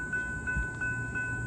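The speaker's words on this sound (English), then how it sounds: "activating the railroad crossing" An activated railroad crossing signal at a test track, a steady tonal ringing with regular pulses repeating roughly every third of a second over low rumble, close and continuous, no talk.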